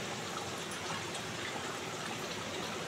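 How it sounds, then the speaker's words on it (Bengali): Water pours steadily into a pot of potatoes for aloo dum, a continuous close splashing wash that runs evenly throughout without pause or voices. "আলুগুলোকে কষিয়ে এর মধ্যে আমি জল ঢেলে দিয়েছি।"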